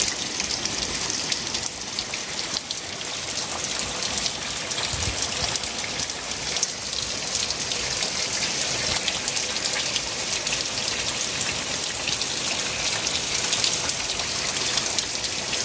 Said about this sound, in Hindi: बहुत वर्षा होती है देखो